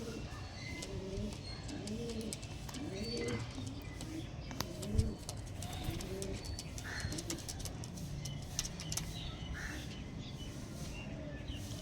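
Andhra old line and Punjabi pigeons coo over and over in low, throaty phrases, joined by scattered chirps from other birds against a steady outdoor background.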